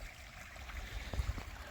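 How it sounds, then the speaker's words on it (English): A small stream runs below a waterfall, its steady broadband rush of flowing water filling the scene at moderate level, with a couple of brief low thumps near the end. "Runs in this little stream."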